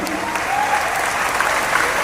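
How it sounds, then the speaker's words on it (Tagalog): Steady, full applause from a graduation-day crowd at Concepcion College, honouring the graduates, a dense wash of many hands clapping throughout with no pauses. "Isang malakas na palakpak para sa inyo."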